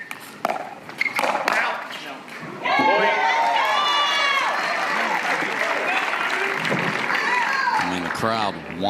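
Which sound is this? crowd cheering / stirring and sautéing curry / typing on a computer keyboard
crowd cheering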